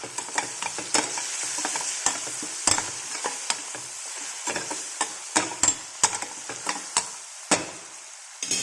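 Fenugreek leaf curry with tomato, turmeric, chili powder and salt being stirred in a pan, a continuous soft sizzle broken by repeated sharp clicks and scrapes of a spoon against the pan.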